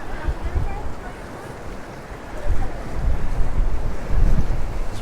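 Big waves surge and wash against the rocky coast at Santa Ponsa, Mallorca, with strong gusting wind buffeting the microphone; a continuous loud roar of surf that swells in heavier bursts.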